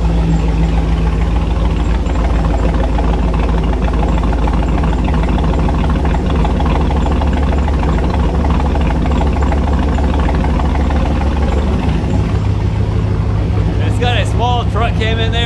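A truck engine with a performance cam of about 216/220 duration idles steadily while warming up, a loud, continuous low rumble holding throughout, with a brief higher whine near the end.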